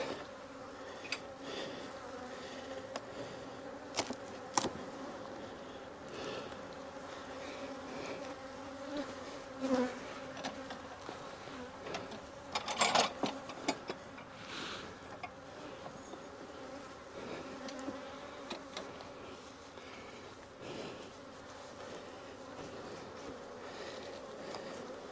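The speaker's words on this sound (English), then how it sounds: "A lot of bees." Honeybees buzz at the third hive in a row of beehives, a soft steady drone with individual bees passing close to the microphone now and then.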